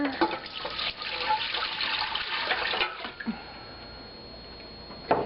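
Water pours steadily into the bowl of an Electrolux Magic Mill (Ankarsrum) stand mixer for challah dough, a continuous close splashing rush that tapers off near the end.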